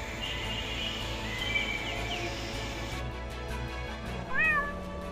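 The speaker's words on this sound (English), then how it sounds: "Cat, the cute cat." A cat gives a short, clear meow near the end, rising above a dense bed of insect-like buzzing and background music or ambience.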